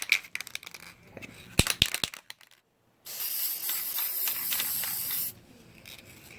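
Clicks and rattles of a spray can being handled, then a steady hiss of aerosol sealant spraying onto a soap dispenser for a couple of seconds, close by.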